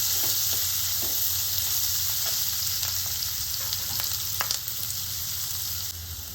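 Green chillies fry in hot oil, giving a steady bright sizzle with occasional crackles and spatters, close and continuous, with no talking.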